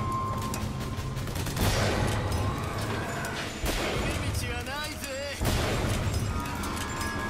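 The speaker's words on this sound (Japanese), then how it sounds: "いや、まだ撃ってるやつがいる。" Gunfire from the video game Bioshock Infinite rattles in dense, loud bursts with booming impacts throughout, while a voice talks over the shooting.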